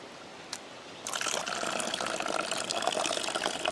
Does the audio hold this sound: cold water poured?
yes